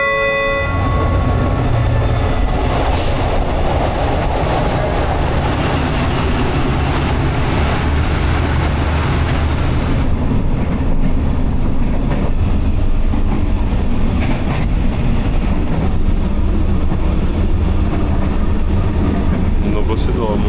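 A night train bound for Chiang Mai, Thailand, rumbles loudly and continuously with rolling wheel noise at close range, the sound easing a little partway through, and no words are spoken.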